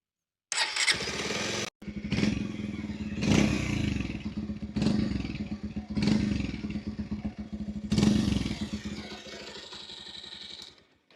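A 2026 Bajaj Pulsar 150 motorcycle with a fuel-injected BS6 engine starts up and runs with a rough, throbbing idle, revving in repeated surges; it cuts out briefly near the start before firing again.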